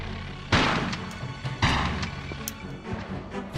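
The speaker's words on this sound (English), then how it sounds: "I'm going to go ahead and take him out with a shotgun" Two sharp shotgun blasts ring out about a second apart in the Tomb Raider 4 video game, fired at a beetle, each with a heavy boom and a short decaying tail, followed by softer thuds.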